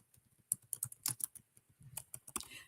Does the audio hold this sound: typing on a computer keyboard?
yes